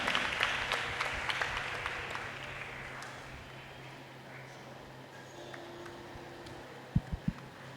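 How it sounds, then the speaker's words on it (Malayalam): Applause from the audience at a church event swells loudly at first with sharp individual claps, then thins and fades to a quiet room, ending with a few louder thumps. "നമുക്കൊരു നല്ല കൈയടി നൽകി നമ്മുടെ അഭിമാനം,"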